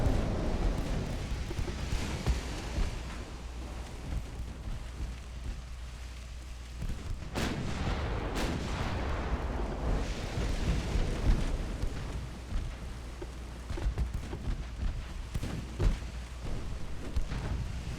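Naval gunfire from the warship game Ultimate Admiral: Dreadnoughts, with a steady rumbling roar of battle and a couple of sharper booms of shots and shell impacts partway through. No voices are heard.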